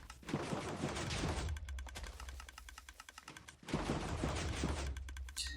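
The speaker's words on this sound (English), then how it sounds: "You should be hearing TNT exploding." Minecraft TNT blocks repeatedly exploding in an automatic tree farm, heard as dense bursts of rapid crackling blasts separated by brief lulls, fairly quiet overall.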